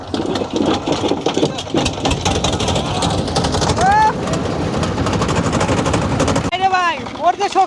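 A motor boat's engine on a river rattles loud and close with a rapid, steady chugging pulse, and voices talk over it throughout.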